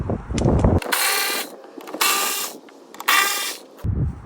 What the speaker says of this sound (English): Now you're going to see you have 1, 2, 3 bolts that we're going to be taking off.